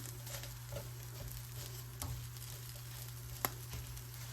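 Chickpeas and potatoes toast in a pan with a faint, steady sizzle and soft crackle, a few light pops and stirring scrapes standing out, quiet and close with no voices.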